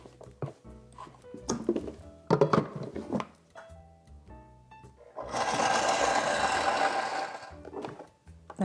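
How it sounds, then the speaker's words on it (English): A countertop blender whirs steadily for about three seconds, blending dates and cashews into a creamy dressing, after scattered clunks and knocks of ingredients and containers being handled nearby. "we're just gonna blend this together until it's really creamy"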